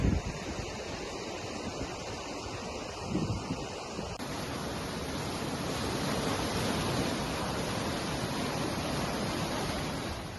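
Heavy monsoon rain pours down in Kutch, a dense, loud, continuous roar of rainfall that swells slightly after a few seconds and holds steady throughout.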